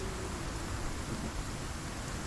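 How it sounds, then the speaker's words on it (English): Steady rain hisses through a storm in the survival video game Icarus, a dense, even wash of noise at moderate level with no distinct thunder clap and no voices. "Storm's almost over."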